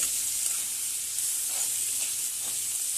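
Thick-cut tomato pieces with salt sauté in a pan for an okra curry, giving a steady, soft sizzling hiss that stays even and close, with a faint stir or two underneath.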